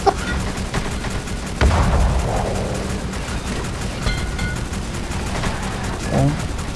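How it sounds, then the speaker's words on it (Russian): Anti-aircraft gun firing in the Roblox game Dead Ahead, a loud burst followed by rumbling, repeated thuds of distant gunfire, with a voice talking over it. "Я попробую сейчас из зенитки по вам тоже пострелять, а вдруг повезет."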